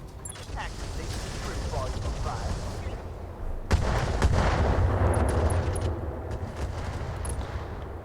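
Mortar and weapon fire in the BattleTech video game, a dense rumbling battle din with heavy booms and a stronger burst midway, continuing as a steady wash of explosions.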